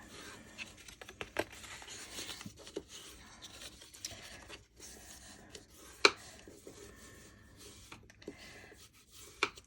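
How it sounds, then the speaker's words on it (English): Folded cardstock edges are burnished by hand, giving quiet rasping rubs and soft scraping strokes in short irregular bursts with a few sharper taps. "So let's take and fold and burnish these edges."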